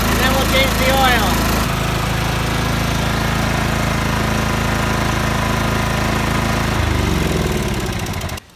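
A GT225 garden tractor engine runs at a steady, loud idle close by, with a slight shift in tone early on, before the sound cuts off abruptly at the end.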